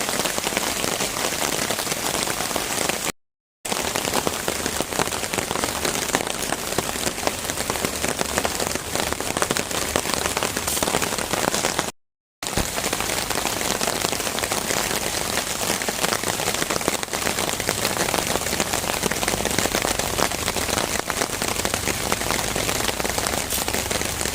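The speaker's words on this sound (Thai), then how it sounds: "ชอบบรรยากาศแคมปิ้งฝนตกนะครับ" Steady heavy rain drums on a taut tent roof overhead at a waterfall campsite under a large tree, a dense continuous patter with two brief dropouts, no voices.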